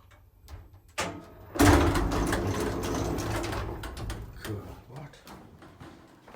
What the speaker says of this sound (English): Listen to this door opening.